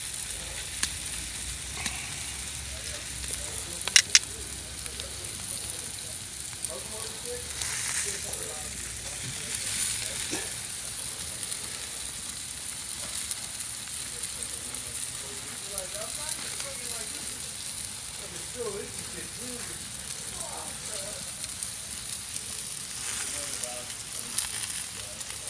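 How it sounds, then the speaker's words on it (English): Bacon sizzles and fries on a cowboy grill in a continuous soft crackling hiss, with faint pops and an occasional clink throughout, and nobody speaking. "Get that bacon cooked."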